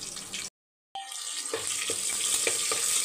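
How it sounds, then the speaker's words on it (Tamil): Fennel seeds frying in hot oil alongside curry leaves, a slit green chilli, bay leaf and kalpasi, with a sharp hiss after a brief gap, then steady crackling and scattered pops up close. "இப்போ எண்ணெய் ஊற்றி வச்சுருக்கேன், சோம்பு போட்டுக்கலாம். சோம்பு பொரியட்டும்."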